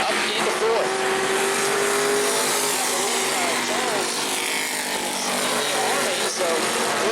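Race cars lapping New Smyrna Speedway during a heat race, a loud continuous engine roar with rising and falling pitches as cars pass, mixed with a commentator talking over the racing.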